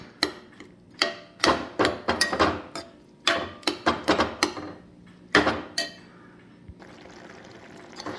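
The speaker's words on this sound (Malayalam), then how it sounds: "ഇനി നമ്മൾ ഈ പയറും മത്തങ്ങയും രണ്ടും കൂടെ ഒന്ന് ഉടച്ച് ഒന്ന് മിക്സ് ചെയ്യണം." Lentils and pumpkin being mashed and mixed in a pot for pumpkin-lentil erissery, a run of close, wet squelching and scraping strokes in uneven bursts, with a brief quiet pause near the end.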